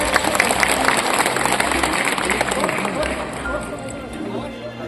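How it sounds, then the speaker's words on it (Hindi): A crowd applauds loudly at an AJSU party political rally in Bundu attended by thousands of workers. The clapping is dense and steady, with crowd noise and voices mixed in throughout. "जोरदार ताली इनके लिए"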